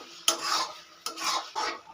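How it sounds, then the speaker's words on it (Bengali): Jujube pickle with coarsely ground fried spices and jaggery being mixed: three close scraping, stirring strokes, each starting with a sharp scrape and trailing off, with short quiet gaps between. "খুব ভালো করে মিশিয়ে নিয়েছি"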